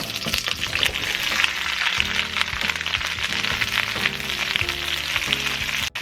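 Vegetables stir-frying in about two tablespoons of oil in a pan over medium-high heat, a loud continuous sizzle and crackle with occasional scraping clanks from stirring.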